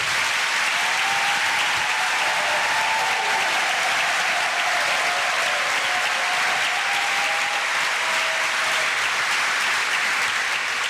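A church congregation claps for the Virgin Mary in sustained, dense applause that fills the space evenly from start to finish, with no voices over it.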